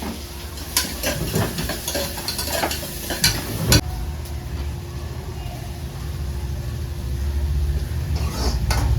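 Tomatoes hit a hot pan with mint and sizzle loudly and steadily, while a spoon scrapes and knocks against the pan in uneven bursts before the frying settles into a continuous hiss.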